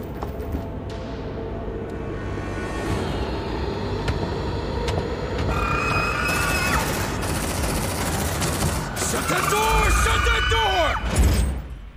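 Squad weapons fire at a creature in the sci-fi strategy game Aliens: Dark Descent, with dense, continuous bursts layered over rumbling effects and voices talking throughout.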